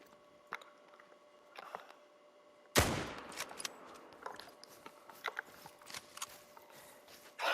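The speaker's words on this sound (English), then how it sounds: "I'm gonna shoot it." A sudden loud gunshot in a video game bursts out partway through, followed by a clattering mechanical tail and scattered clicks, after a stretch of quiet ticking.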